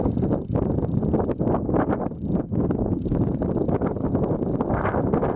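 Wind outdoors near Star Peak buffets the microphone in continuous gusty rumbles that swell and ease, loud and close, with no other sounds.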